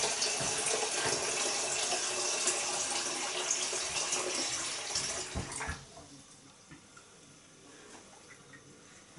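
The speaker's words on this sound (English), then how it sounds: "I've already let the tap run. It's hot water." Hot water runs from a kitchen tap in a steady, broad rush for about five and a half seconds, then cuts off, leaving a quiet room with faint drips and small sounds.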